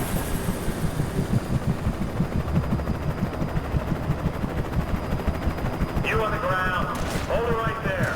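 Rapid machine-gun fire from a helicopter in the video game Alan Wake, a dense continuous rattle of shots running throughout at steady loudness, with a burst of talk near the end.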